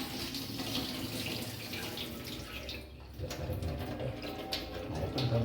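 Water drains out of grated potatoes in a sink while a tap-like stream splashes steadily, briefly dipping midway, with faint clatter and no voices.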